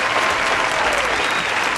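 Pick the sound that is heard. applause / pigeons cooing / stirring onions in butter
applause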